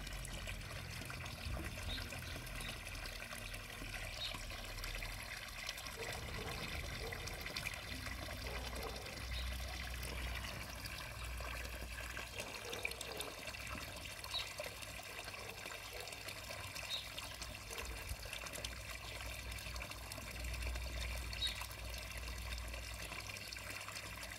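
Soft, continuous trickle of water splashing gently over stones in a garden waterfall, steady and faint throughout with a low hum underneath.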